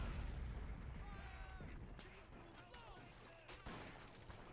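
Musket volleys and cannon fire from a Civil War battle in the game Men of War, a dense rumbling barrage of shots and booms filling the whole stretch, with someone talking over it.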